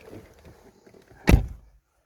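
A Ford Focus door with a keyless entry system opening, a single solid thunk after some soft faint handling noises, close by, then quiet.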